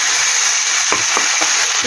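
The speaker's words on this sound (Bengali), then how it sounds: "এখানে পেঁয়াজটা ভাজছি পেঁয়াজ টমেটো ছাড়া একসাথে দিয়েছি" Onions fry in hot oil in a home kitchen pan, a loud, close, continuous sizzle with a few light stirring clicks.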